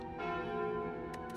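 A bell rings when the bell relic is taken in the video game Slay the Spire, a loud sustained church-like toll with rich ringing overtones and a couple of lighter strikes near the end.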